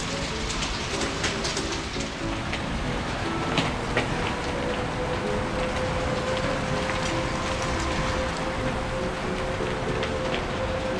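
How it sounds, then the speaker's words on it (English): Steady, dense patter of rain and big hail striking surfaces, with a faint sustained tone running underneath throughout. "that's hail. That's big hail."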